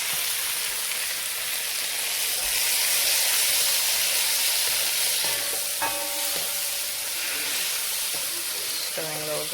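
Vegetables and fresh tomatoes frying in a pan for red wine braised lamb shanks, a steady close sizzle with occasional stirring scrapes and a few light clinks toward the end.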